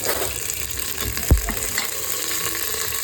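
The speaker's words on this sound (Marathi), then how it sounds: "जिरी गेली, मोहरी गेली आणि सगळ्यात महत्त्वाचा कढीपत्ता" Cumin, mustard seeds and curry leaves crackle and sizzle in hot oil in a pressure cooker while masale bhat is being made, a steady close frying hiss with one sharp pop partway through.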